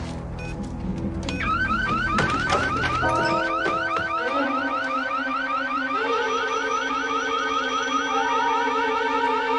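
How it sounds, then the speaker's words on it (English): A car alarm is triggered during a robbery and blares loud and steady, its sweeping electronic whoops repeating in a fast, continuous cycle from about one and a half seconds onward. "Hit the alarm and run like hell!"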